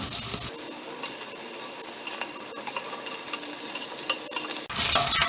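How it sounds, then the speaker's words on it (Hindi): Chunks of taro root fry in a pan over low-medium heat, a steady close sizzle broken by scraping and tapping as pieces are turned, with a louder burst of crackle near the end. "और गोल्डन ब्राउन होने तक इसे फ्राई करना है"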